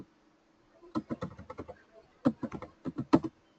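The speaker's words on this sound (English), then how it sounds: "if I type here in the client" Typing on a computer keyboard, two quick bursts of sharp close key clicks separated by a short pause, with no talk.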